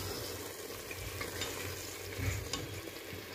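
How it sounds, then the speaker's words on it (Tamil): Chicken mixed with masala sautés in oil in a pan for a Sunday chicken gravy, giving a steady close sizzle with soft scraping and stirring, and no one speaking. "நான் சிக்கன் நல்லா மசாலாவோட மிக்ஸ் பண்ணி விட்டுருக்கேன். ஸோ இது ஒரு 5 நிமிஷம் இப்படி வணங்கட்டும்."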